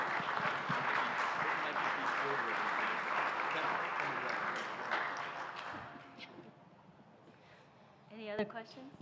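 A conference audience bursts into loud, sustained applause for a policy panel; the clapping fades after about six seconds, leaving faint murmurs and a brief bump of sound near the end.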